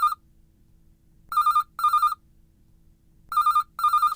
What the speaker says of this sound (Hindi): फोन नटू काका।